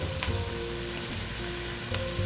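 Mushrooms and vegetables sauté in a pan for soup, a steady close sizzle and hiss with a couple of brief clinks of a utensil stirring.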